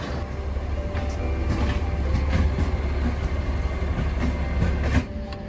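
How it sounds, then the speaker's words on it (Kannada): The Mysore–Jaipur superfast express rolls steadily along the rails with a constant low rumble and rhythmic wheel clatter, heard loud and close from on board, with no voices. "ಸೊ ಈಗ ನಮ್ಮ ಟ್ರೈನ್ ಹೋಗುತ್ತೆ"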